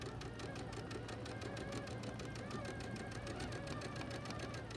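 A sewing machine runs continuously at high speed while stitching seams, a fast, even mechanical rattle that stays at a constant low level throughout.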